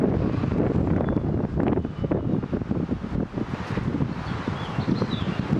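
Steady wind buffeting the microphone outdoors, a constant low rumble with gusty rustling throughout and no talking.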